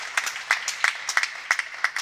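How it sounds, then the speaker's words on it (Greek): Scattered clapping from the Panathinaikos bench during a men's volleyball match against Olympiacos, a few hands clapping in quick irregular bursts, fairly close and clear. "Τα χειροκροτήματα είναι από τον πάγκο του Παναθηναϊκού για την προσπάθεια του αθλητή τους."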